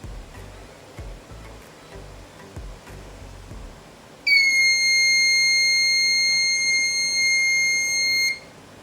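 A microcontroller project's buzzer, built as a distance-alarm module, gives a loud steady electronic tone that starts partway through and holds for about four seconds before cutting off. Faint clicking and handling noise come before it.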